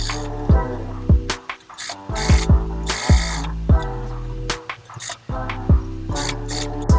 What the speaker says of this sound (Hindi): सीधी सीधी सिलाई लगाते जाएंगे।